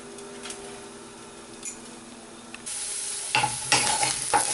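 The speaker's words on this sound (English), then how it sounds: "Now I'll fry the baby potato." Baby potatoes fry in a pan, a low sizzle that swells into a louder, brighter crackle near the end, with a few clinks and scrapes, close and with no talk.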